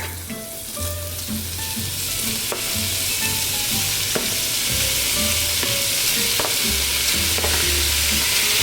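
Beef for a pepper steak stir fry sizzles steadily in a hot pan, a loud continuous hiss with scattered crackles and occasional clinks and scrapes of stirring throughout.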